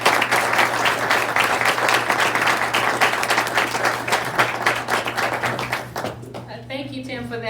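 An audience at a meeting applauds to welcome a judge, giving sustained, lively clapping that thins out before a voice begins speaking at the end.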